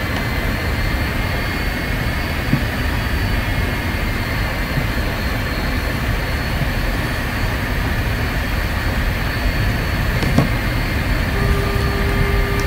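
A propeller airplane engine runs at reduced power during slow flight into a strong headwind, a loud, steady, broadband drone with wind rush that holds unchanged throughout. A faint tone appears near the end, and no one speaks.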